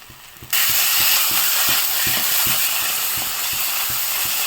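Mashed yardlong bean (borboti) paste stir-fried in a pan, a loud continuous sizzle and hiss with regular rhythmic scraping or clicking strokes from stirring, heard up close without voices.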